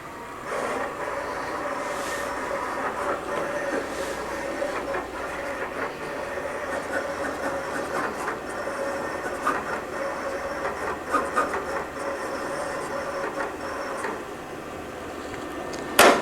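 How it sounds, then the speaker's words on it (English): A vinyl cutter works through a scrap piece of heat transfer vinyl, giving a steady close whir with rapid mechanical ticks and clatter throughout. "send it over to my cutter, and it'll cut right on my scrap piece of material"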